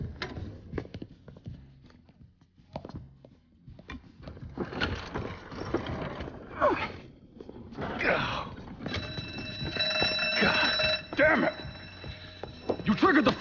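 A steady electronic alarm rings in a Mafia III heist after a drill breaks into a caged area on a separate security system, sustained tones over gameplay noise and talking voices.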